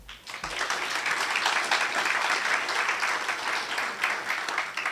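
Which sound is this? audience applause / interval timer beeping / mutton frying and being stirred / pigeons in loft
audience applause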